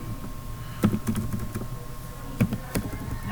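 Keys clack on a computer keyboard in short, irregular bursts of typing with pauses between, close and fairly quiet over a faint steady hum.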